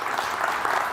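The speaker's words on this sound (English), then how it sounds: "Give him a big round of applause." Dense applause fills a conference keynote hall, a loud, continuous wash of many hands clapping with no break.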